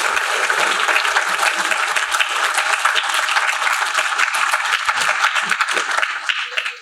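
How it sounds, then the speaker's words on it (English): Sustained audience applause fills an award ceremony hall for a writers' festival honoring an author, dense steady clapping from a large crowd that tapers off at the very end. "let's just give everybody one more round of applause"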